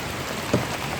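Steady rain falls beside a river during a thunderstorm, a dense constant hiss of drops close by, with one brief louder patter partway through and no voices.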